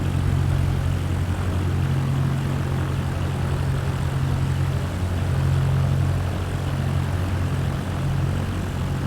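A propeller aircraft engine idles at low RPM while taxiing in Microsoft Flight Simulator 2024, a steady loud drone with a low throbbing hum that swells and eases slightly through the whole stretch, with no talking.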